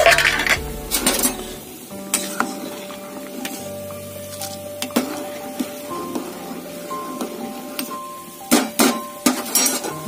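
Sour fish curry being reheated in a pot in a home kitchen: sharp metallic clinks and scrapes of utensils against cookware, scattered irregularly over a quiet background with a low hum.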